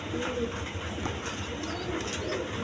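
Pigeons cooing steadily in a crowded loft with a young squab present, the soft burbling calls overlapping against a dense background hum.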